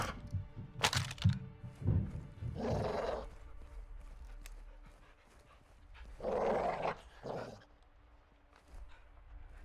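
A caged dog in a video game, played on veteran difficulty, gives rough, loud barks and growls in two bursts, with thuds and cracks between them and panting-like breaths, with no talk.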